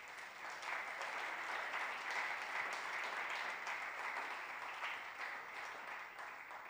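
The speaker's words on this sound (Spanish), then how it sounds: "Le damos un aplauso a la palabra de Dios" A church congregation gives a sustained round of applause, a steady wash of many hands clapping at moderate distance with no voices over it.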